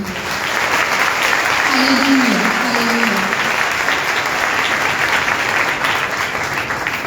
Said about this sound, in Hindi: आइए हम अपने खुदावंद के लिए बहुत सी भरपूर तालियां बजाएं।